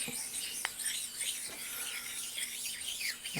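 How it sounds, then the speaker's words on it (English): Precision ground stones rub back and forth over a surface grinder's chuck, giving a faint, steady gritty scraping with a soft steady hum beneath and one small tick. "In between setups, I use my precision ground stones and go over the chuck."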